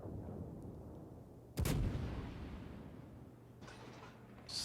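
A single heavy salvo booms from a warship's main guns in a naval video game. The blast is sharp and loud and fades into a long rumble over low background hum, and a fainter burst follows near the end.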